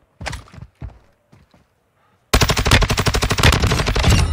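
A few soft footsteps, then a loud, sustained rapid-fire burst from an STB 556 assault rifle in the shooter game Warzone 2.0, rattling on without pause to the end.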